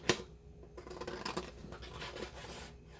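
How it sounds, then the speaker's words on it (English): Small paper cards being cut out with scissors at a craft table, a close series of crisp snipping and rustling strokes with a sharp first cut, nearby and fairly quiet. "I'm just going to cut out 2 of these little cards"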